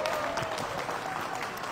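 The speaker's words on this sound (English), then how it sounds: "Give him a clap." A group of Tibetan kids in Toronto clap for a pupil who gave the right answer, a brief burst of continuous applause in a room.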